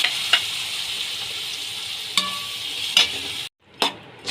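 Chopped tomatoes hit a pan of frying turmeric, red chili, coriander powder and garam masala, giving a steady faint sizzle broken by a few sharp scraping stirs and a brief quiet gap near the end.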